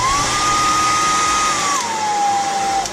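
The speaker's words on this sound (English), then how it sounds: "what you can use is your hair dryer" A continuous whine of a hair dryer blowing, used to dry skate bearings, its motor pitch steady and then dropping slightly near the end, loud and close.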